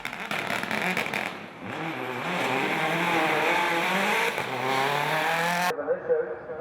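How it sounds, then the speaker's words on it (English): A rally car with a failed engine drives on a forest rally sprint stage, its motor droning and rising in pitch at a steady, subdued pace before cutting off abruptly, with a voice talking over it. "the car is going considerably slower, but will he get his time quick enough?"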